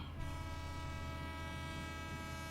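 A train rumbles past loudly and continuously, its horn sounding as a steady sustained tone over the heavy rolling noise of the wagons.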